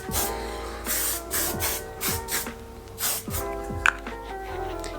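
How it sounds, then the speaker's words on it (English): Hairspray hisses from an aerosol can onto hair styled in a sleek low bun, in several short bursts close to the microphone. "then I would just spray some hairspray"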